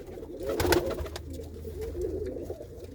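Pigeons kept on a home rooftop coo softly and close by, a few low throaty calls with light wing flutters and faint background noise.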